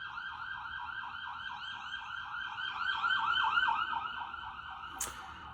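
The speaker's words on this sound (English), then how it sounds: "Hold on, there's going to be a siren." A wailing emergency siren sweeps up and down steadily, heard from some distance and swelling slightly louder in the middle, with no talking.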